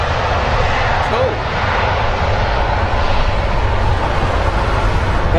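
A jet airliner roars on the runway at London Heathrow, a loud, sustained broadband engine rush filling the whole stretch, with radio-style talk faintly underneath.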